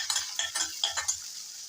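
Two large green chillies go into hot oil with cumin seeds, bringing a few quick bursts of sizzling and a utensil scraping the pan in short, rhythmic strokes, close and fairly clear.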